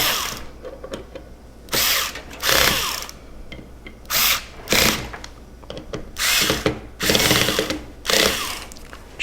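Screws being driven down into a computer hard drive during a PC build, with bursts of clicking, whirring driver or ratchet sound separated by short pauses, close and fairly loud, with no talk.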